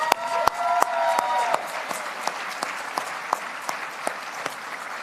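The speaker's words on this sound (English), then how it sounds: "let's have a round of applause for Wilma Mankiller, Chief Mankiller, can we?" An audience at a Barbie event honoring Chief Wilma Mankiller applauds, a loud, sustained wash of clapping with sharper individual claps standing out, strongest at the start and continuing steadily throughout.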